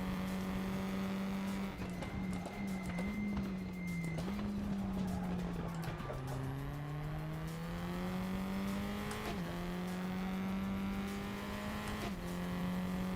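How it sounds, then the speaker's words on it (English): A race car engine in RaceRoom drones steadily with shifting pitch, a high thin gearbox squeak riding on top, tires occasionally squealing as it corners. "That's the sound of the gearbox."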